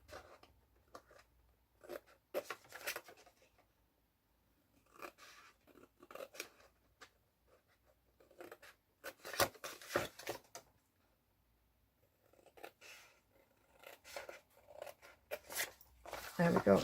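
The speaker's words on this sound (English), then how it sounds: "we're going to cut through one score line down to the second one" Scissors cut through a scored cardboard gift box for hand cream, producing short crisp snipping and crunching bursts in several clusters, close up, with a person talking in between.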